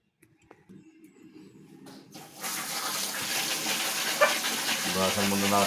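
A papaya rinsed under running water from a tap, starting with faint clatter and then a rushing gush of flowing water that grows louder and stays steady.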